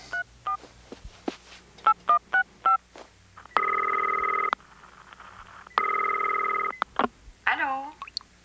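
A telephone keypad sends a quick series of beeping dial tones, then two long ringback tones sound in a quiet room, followed by a brief voice at the end.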